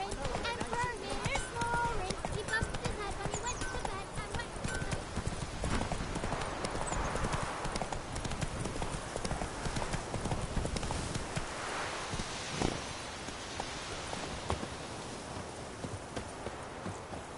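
A horse gallops in The Witcher 3, its hoofbeats drumming in a steady clip-clop rhythm throughout, with game sounds and voices mixed underneath.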